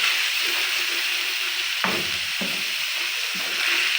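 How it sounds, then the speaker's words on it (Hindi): Egg keema sizzles and fries steadily on a tawa over a slow flame, a continuous close hiss broken by a few scraping stirs, with no voices. "अब स्लो फ्लेम पर मज़ीद मैं इसको इतना भूनूंगा कि अंडे पक जाए"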